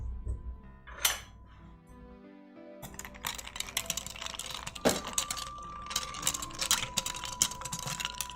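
A spritz cocktail topped with soda being gently agitated in its glass: close clinks and rattles, likely ice or a spoon against glass, with scattered knocks and a steady light clatter through most of the clip.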